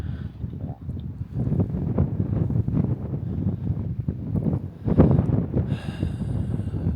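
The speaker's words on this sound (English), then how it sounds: "the wind might take over a little bit." Outdoor wind buffets a microphone, producing a continuous low rumbling roar with uneven gusts that swell and fade, including a stronger gust near the end.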